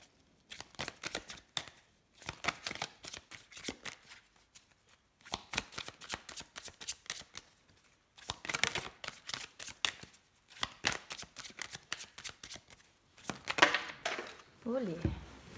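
Playing cards for a card reading are shuffled in repeated riffling bursts, close and crisp, separated by short pauses, with a few soft voice sounds in between.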